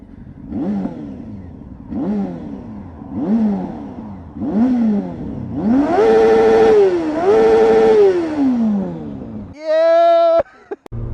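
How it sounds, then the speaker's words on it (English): A Yamaha R6 sport motorcycle revs hard several times in quick succession, each rise and fall sharp and loud and close by. Longer high-pitched wails follow, then a brief whine and some clatter at the end. "This is the last ride of this bike."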